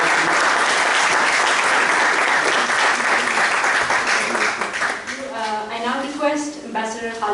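An audience at a public talk claps in sustained, even applause that fades toward the end as a voice begins speaking over the thinning claps.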